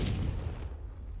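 A Confringo spell blast in Hogwarts Legacy, heard as a sharp burst that drops into a low, rumbling boom. It fades over about a second, with no talking.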